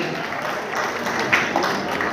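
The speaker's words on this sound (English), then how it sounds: "a huge round of applause" Audience at an international Ayurvedic medical college seminar gives a round of applause, a steady broad wash of clapping throughout.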